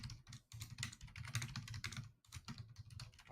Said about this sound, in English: Who's hammering on that keyboard?